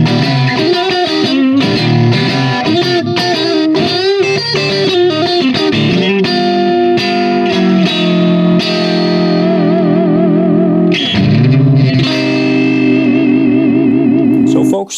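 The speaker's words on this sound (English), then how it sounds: "A really fast release and a slow attack to let some transients come through, and it gives you this nice cranked up amp sound, lots of compression" Electric guitar played through an Origin Effects Cali76 compressor pedal set for fast release and slow attack, giving a heavily compressed, cranked-amp tone; a dense, continuous driven passage with echo and reverb, loud and alone.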